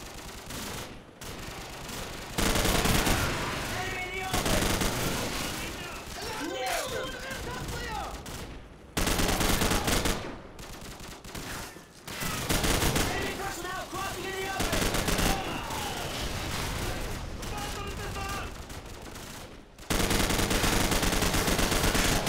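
Sustained gunfire from the game Call of Duty 4: Modern Warfare, dense and continuous with heavy automatic bursts and overlapping shots. The firing runs nearly unbroken, and voices come in at times.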